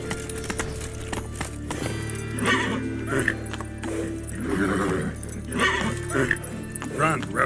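Roach, a horse in The Witcher 3, runs with steady clip-clopping hoofbeats and gives occasional whinnying neighs, all under a man's intermittent speech and a low background hum.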